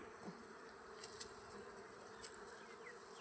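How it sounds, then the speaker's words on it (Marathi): Faint buzzing of a swarm of flies close by, with a few sharp louder passes over a quiet outdoor village farm background. "तर भरपूर माशा बिशा उठल्या"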